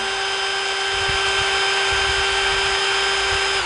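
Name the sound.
Ronix 8905K cordless hammer drill running at low speed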